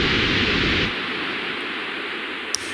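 Broadband white noise static run through reverb in Ableton Live hisses loudly, then drops to a quieter, thinner hiss with a faint click near the end.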